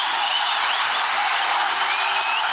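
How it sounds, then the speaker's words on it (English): At a T20 cricket match between India and Sri Lanka, a stadium crowd keeps up a steady, dense roar of cheering and applause for the home side, with no individual voices standing out. "The crowd is on its feet. They're starting to cheer the home side."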